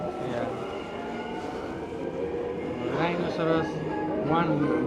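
A Seoul metro train rumbles steadily from inside the car during the ride, the low rolling noise running beneath people talking nearby.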